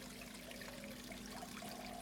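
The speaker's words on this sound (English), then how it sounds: "So we have the waterfall that is on," Water in an aquarium waterfall runs over a bed of growing watercress, a faint, steady trickle with a low continuous hum beneath it.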